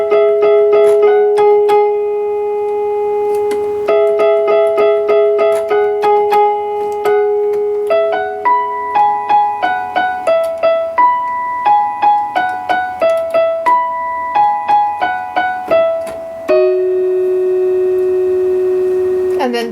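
Piano notes play the right-hand part of the pre-chorus of a song, a steady sequence of single sustained and repeated notes with a clear, moderately loud tone, ending on a long held note, no talking.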